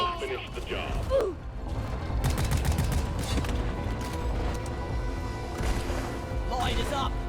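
Gunfire crackles in rapid bursts in Deep Rock Galactic, mixed with mechanical clanks and game effects, while voices talk over much of it.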